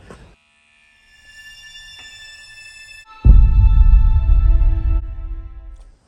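A battery-powered rechargeable electric hand pump for spraying moss and weedkiller on block paving hums quietly, then kicks up into a louder steady buzzing whir for a couple of seconds before easing off.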